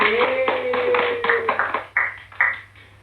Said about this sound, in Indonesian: Tepuk tangan dulu dong untuk semua